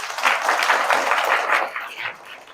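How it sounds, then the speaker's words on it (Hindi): A crowd of schoolchildren claps loudly and steadily for the youngest child, a dense, continuous patter of applause that tapers off slightly toward the end. "इसके लिए ताली मारो जोर से।"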